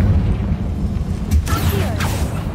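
A Confringo fire spell blasts in Hogwarts Legacy, a bursting whoosh with a rising crackle over a steady low game rumble, with a second flare following shortly after.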